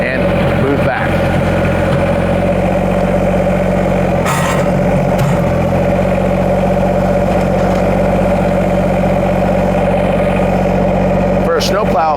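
A Kubota BX compact tractor with a front end loader idles steadily and loudly close by, a constant low engine drone throughout, with a few brief clanks over it and no talk.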